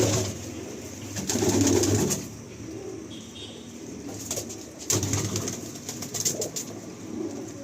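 Breeder pigeons in a large loft in South Kolkata coo in soft repeated rounds nearby, with a few louder bursts and faint fluttering among them.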